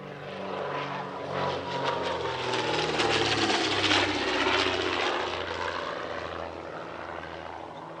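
A Comet racing aircraft, a rare surviving vintage airplane, flies past at an airshow, its propeller engine droning loud and steady with a slowly shifting pitch as it passes.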